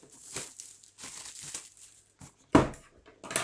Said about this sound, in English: And just peel off this plastic layer.